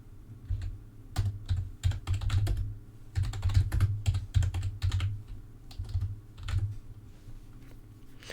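Computer keyboard typing during a Discord bot coding session, with rapid irregular bursts of keystrokes and short pauses between them, close and fairly loud, with no talking.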